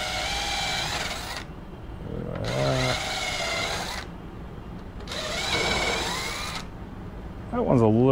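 A power drill bores into a pumpkin being carved as a jack-o'-lantern, heard in three loud, close, steady whirring bursts of a second or two each, separated by pauses, before a voice speaks at the end.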